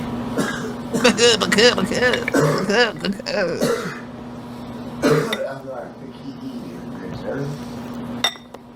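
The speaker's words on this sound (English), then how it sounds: "The coughing is like raising my blood pressure." Several coughs and throat-clearing noises among chatter and clinking dishes, with a steady hum underneath; voices talk throughout.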